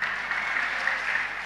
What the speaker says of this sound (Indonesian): Kenapa tepuk tangannya?